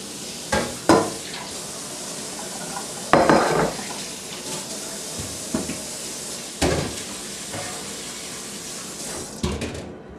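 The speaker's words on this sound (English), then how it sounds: "Now I'm going to dump the water and the kernels into a strainer." Water and pomegranate kernels are dumped into a strainer in a kitchen, heard as several separate loud splashy pours and clattering bursts with quieter gaps between them.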